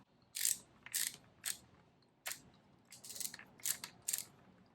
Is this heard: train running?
no